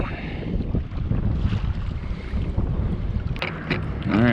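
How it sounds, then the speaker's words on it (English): Wind buffets the microphone from a kayak on the water during a fishing tournament, a rough, gusty rumble throughout with faint splashes and a brief squeaky creak near the end. "wind picked up pretty good."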